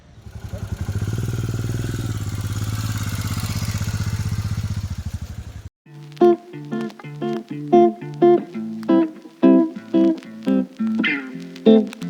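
Motorcycle engine running steadily for about six seconds on a bike trip from Hyderabad toward Srisailam, then cutting off, followed by a rapid series of sharp clattering knocks.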